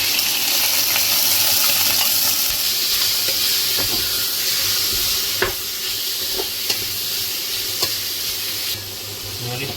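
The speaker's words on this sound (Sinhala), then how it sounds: "මේ චිකන් එක විනාඩි 2ක් විතර බදින්න." Chicken pieces fry in hot oil in a pan for a spicy cheese chicken risotto: a loud, steady sizzle fills the scene, with occasional sharp clicks of stirring.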